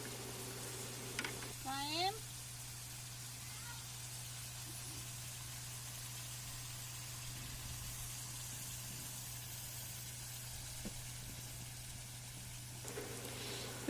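Chicken karahi frying in a pan while being stirred, a faint steady hiss of oil beneath a low hum, with a brief voice near the start.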